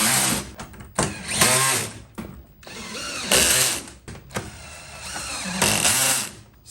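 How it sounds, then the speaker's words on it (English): A power drill whines in bursts while drilling a mounting hole for a car's rear diffuser, revving up and cutting out several times with short pauses between, loud and close. "Just gonna go ahead and drill this last one here"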